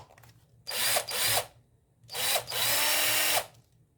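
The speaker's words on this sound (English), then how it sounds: "Got a drill now." A rebuilt cordless drill whirs up in two bursts, each about a second long, with a brief stutter between them. The sound is close and loud against a quiet background hum.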